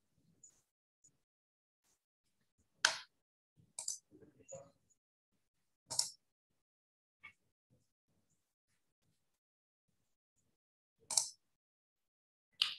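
Computer mouse double-clicks while working in MS Access 2010, sharp isolated click pairs scattered across a quiet room, with brief soft speech between them.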